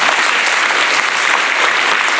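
Steady, dense applause from a group of schoolchildren in a classroom, loud and continuous throughout.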